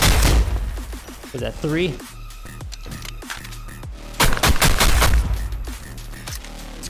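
A shotgun in the video game Contractors Showdown fires at close range, first unsuppressed and then with a suppressor, giving a string of sharp, loud blasts with quieter, duller shots between them, while someone talks.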